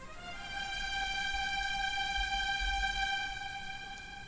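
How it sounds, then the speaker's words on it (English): A strings instrument layer from a remade hip-hop instrumental, treated with reverb and EQ that cuts the lows. One sustained, bright tone holds steadily alone, with a faint low rumble underneath. "Lastly, there's a strings instrument that plays, and it sounds like this."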